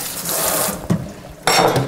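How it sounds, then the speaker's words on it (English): Cool tap water runs into a sink over pasta in a colander, a steady splashing rush that dips briefly, surges near the middle, then comes back louder toward the end, close by with no voices. "I'm going to drain it off into a colander here in the sink. Hit it with a little cool water to stop it from cooking any longer."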